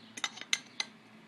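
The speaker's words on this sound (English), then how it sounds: "This stove part screws right down on top of that." A JetBoil camping stove is screwed onto a fuel canister: a few sharp metallic clicks and scrapes, close and quiet, in a short irregular cluster followed by near silence.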